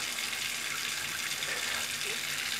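Hot water running from a bathroom tap, a steady, quiet, continuous hiss of flowing water with no break.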